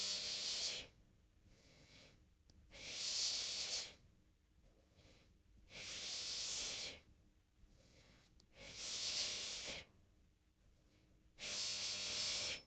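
Heavy rhythmic exercise breathing during a postpartum core workout, five long loud hissing breaths at steady intervals of about two and a half seconds, with quieter gaps between them and no speech.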